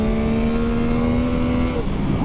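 A Yamaha MT-09 SP motorcycle engine revs hard under acceleration, its loud, close whine rising and holding steady before easing off near the end, with no voices.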